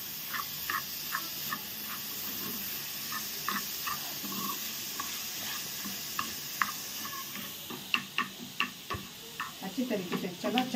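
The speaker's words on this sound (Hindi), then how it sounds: "अच्छी तरीके से मिक्स करते हैं।" A spatula taps and scrapes through paneer bhurji in a pan, the clicks growing quicker and more frequent toward the end over a faint sizzle, with someone talking throughout.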